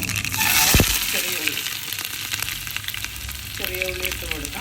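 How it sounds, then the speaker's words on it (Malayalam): Mustard seeds crackle and pop in coconut oil that has not fully heated, with a steady frying hiss and a sharp clatter near the start. Some faint background voices come and go beneath the sizzle. "അതിനകത്തോട്ട് നമുക്ക് കുറച്ച് കടുക് ഇട്ട് കൊടുക്കാം."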